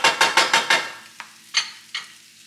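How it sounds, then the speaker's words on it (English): Meat frying in a pan is stirred with a utensil, giving several quick rhythmic scrapes over a sizzle, then a few separate knocks against the pan. "Stirring the meat."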